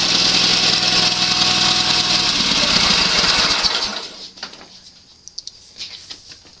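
A Sears SS16 garden tractor engine runs loud and steady at close range for about four seconds, then cuts off, leaving faint rattles and outdoor sounds.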